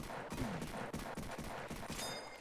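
Gunfire in a Roblox shooter game rattles out in a rapid fusillade of sharp, loud shots, fired in quick bursts one after another.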